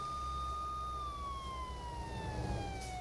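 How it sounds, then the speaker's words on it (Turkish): A police siren from the Euro Truck Simulator 2 driving game wails in a steady tone, then slides gradually lower in pitch, fairly faint and alone with a low engine rumble beneath. "Aç hemen sirenleri."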